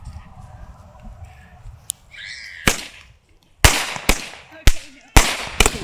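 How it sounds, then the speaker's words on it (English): Handheld fireworks and firecrackers go off outdoors, a string of sharp, loud cracks and pops, about six bangs in quick irregular succession after a quieter stretch with faint voices and rustling. "lighting her fireworks"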